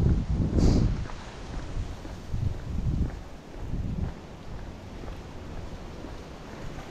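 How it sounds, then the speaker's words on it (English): Gusts of wind buffeting a microphone on a street walk, low blustery thumps that swell and fade in uneven bursts, strongest near the start, with no voices. "The wind's at my back, but it doesn't feel as cold now."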